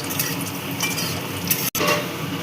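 Bay leaves, dried red chillies and whole garam masala fry in hot oil for a biryani, a dense close sizzle with light stirring clinks and a brief dropout near the end.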